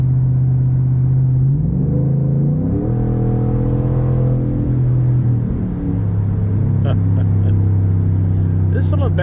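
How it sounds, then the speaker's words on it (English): A race truck's engine and exhaust run loud and steady up close, a deep droning rumble whose revs shift a couple of times, with a brief sharper noise near the end. "Let's listen to the engine and the exhaust,"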